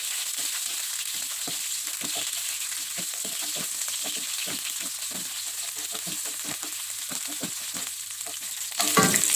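Galangal, lemongrass and ginger sizzle steadily in a pan as a spatula stirs them with repeated scraping clicks, with a brief louder burst of frying right at the end.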